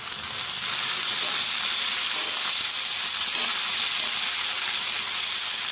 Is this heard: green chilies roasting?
yes